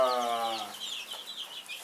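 A hen gives a short, low cluck while chicks peep in quick, high chirps close by; the chicks have sticky butt.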